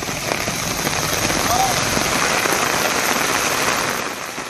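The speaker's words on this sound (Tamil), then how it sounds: "1 மணி நேரத்திற்கு மேலாக மழை வெளுத்து வாங்கியதால்" Heavy rain pouring steadily in Tamil Nadu, a dense, loud hiss of drops hitting surfaces that stays constant before easing slightly at the end.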